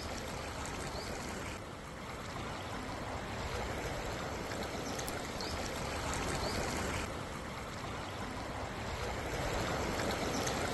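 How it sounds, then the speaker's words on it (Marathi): Floodwater rushes across a waterlogged road after a cloudburst-like downpour in Sinnar taluka, Nashik, a steady broad roar of flowing water that holds without pause, moderately loud and close. "अटकवाडी फाटा देखील रस्ता जलमय झालेला आपण त्याची दृश्य बघतोय।"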